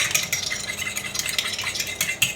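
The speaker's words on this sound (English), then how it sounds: "We're just gonna whisk that here." An egg and flour are whisked briskly in a bowl, a fast continuous rattling clatter of metal wires against the sides, steady and fairly close throughout.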